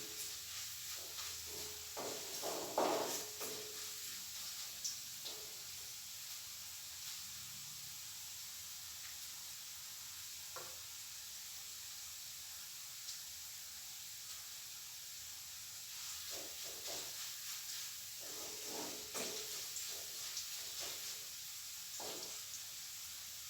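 Faint, steady hiss and sizzle of ginger and garlic sautéing in a pan for a soybean curry, with a few soft scrapes of stirring scattered through the long quiet stretch; no voices.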